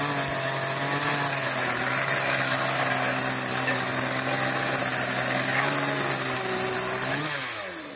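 A loud power tool trims the roof overhang on a small hunting building, running as a steady, unbroken whine for about eight seconds before its pitch drops slightly at the end.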